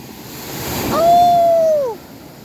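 Rough sea waves surge and wash in a steady broadband roar, swelling loudest midway, with a bright tonal whistle or cry sweeping across the middle of the surf.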